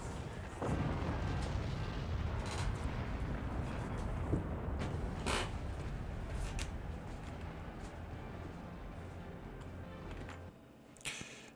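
Heavy artillery booms and rumbling explosions roll on continuously from a battlefield in the game Forts, dense and loud, with a few sharper blasts standing out.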